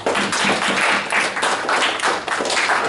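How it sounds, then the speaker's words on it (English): Dense, continuous applause from a small class clapping together, a steady bright patter of many hands close by, no talking. "Big round of applause."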